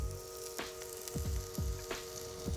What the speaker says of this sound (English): So then we're gonna work on the chanterelles. We're gonna saute them in a little pheasant fat.